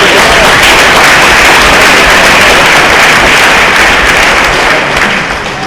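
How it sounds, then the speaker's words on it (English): Very loud, dense applause from a banquet audience for a junior varsity high school football team, a continuous wall of clapping and cheering that barely varies, tapering slightly at the end. "Another big round of applause for all of our JV Viper football players this year."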